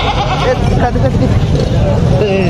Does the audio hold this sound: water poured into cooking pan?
no